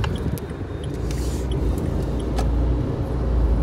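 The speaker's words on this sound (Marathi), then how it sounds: "फुल ट्रॅफिक आहे आज." Heavy road traffic on a congested street in Goa, a steady loud engine rumble and road roar throughout with faint higher clatter, no voices.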